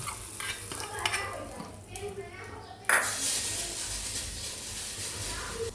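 Tadka of mustard seeds, Kashmiri red chili and spices hitting mung bean curry: a steady sizzle and stirring scrape with a sudden louder hiss near the end, close and continuous.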